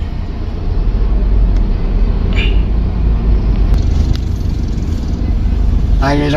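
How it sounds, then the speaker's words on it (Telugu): Highway traffic on the road past Piduguralla toward Chennai, a steady broad rumble of vehicles heard from inside a moving car, with a few brief higher tones and a short beeping near the end. "Traffic jam."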